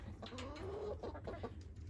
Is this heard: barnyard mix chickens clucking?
yes